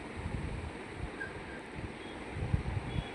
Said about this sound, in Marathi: आणि वारं तर इतकं आहे